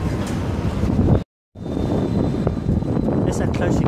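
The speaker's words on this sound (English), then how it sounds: "This is how close you can get to a tram." A London tram rolls past very close, a loud rushing rumble with wind buffeting the microphone, broken by a brief dropout, and someone speaking under it.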